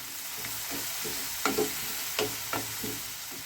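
Turmeric and red chilli spice mix sizzling in a hot pan after a little water is added, a steady close frying hiss with several short stirring scrapes spaced through it.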